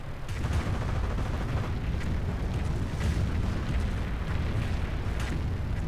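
Calliope rocket artillery in a strategy game fires in a continuous dense rumble of launches and impacts, heavy and booming, with no speech over it.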